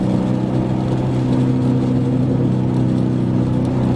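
A car's engine hums and rumbles steadily through a Borla ATAK exhaust, a close, continuous low drone at an even pitch, with no sharp revs and nobody talking.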